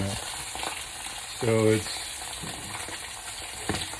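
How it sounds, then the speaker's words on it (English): Red snapper fillet sizzles steadily in hot fat in a pan, a continuous crackling fry with a brief louder burst, while someone speaks a few words over it. "See the amount of fat in there? See how much it's sizzling?"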